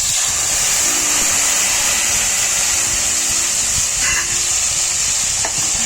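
Tomato puree frying in oil with whole spices, being stirred, gives a steady close hiss and sizzle throughout with a few faint clinks of the spoon and no talking.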